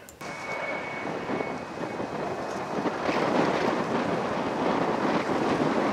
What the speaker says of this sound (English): the wind was extremely strong